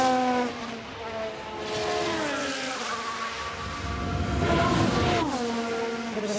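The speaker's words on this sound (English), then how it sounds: "Sounds so nice, doesn't it, the cars?" Several F1 race cars lapping the Dutch GP circuit in the video game F1 Manager 2022, their high-revving engines whining and shifting up and down in pitch, loud and continuous throughout.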